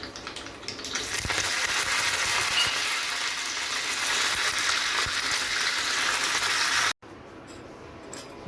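Curry leaves dropped into hot oil for a mustard-seed tempering for rice dhokla: a steady, loud close sizzle and crackle that runs unbroken, then cuts briefly and resumes a little quieter.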